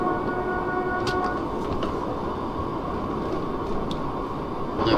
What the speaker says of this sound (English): allow the train to coast.